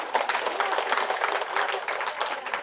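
A seated audience applauds at a motivational talk on happiness, brisk steady clapping from many hands filling the space for a few seconds.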